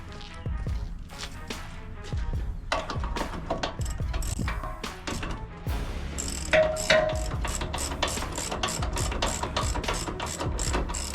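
Close, steady clicking of a ratchet snugging up control arm bolts on a Pontiac Firebird during a subframe and tubular control arm install. Rapid pawl ticks run in bursts throughout.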